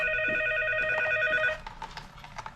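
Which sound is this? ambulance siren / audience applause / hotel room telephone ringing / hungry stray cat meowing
hotel room telephone ringing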